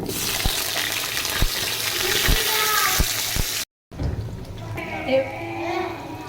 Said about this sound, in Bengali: এবারে আলুটা দিয়ে ভাজা ভাজা করছি।